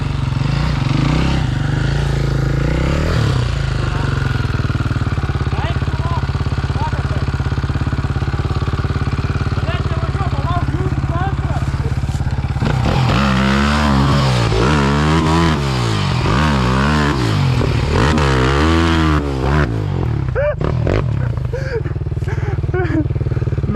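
A dirt bike engine, enduro or motocross type, revs on the throttle in repeated rising and falling surges, loud and close, with riders talking and shouting over it outdoors.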